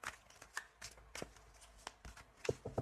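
Tarot cards shuffled by hand before a reading: a run of crisp riffling flicks and soft taps at an irregular rhythm, close and fairly quiet, with no talking.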